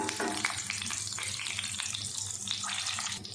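Garlic with red and green chilies fries in hot oil for a tadka, giving a steady, dense sizzle and crackle close by, with a few brighter spits and no voices.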